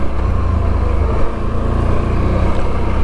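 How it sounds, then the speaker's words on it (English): A 2025 CFORCE 1000 Overland ATV engine drones loud and steady from onboard while riding rough trails, a continuous low rumble with slight throttle variation. "I really like this ATV."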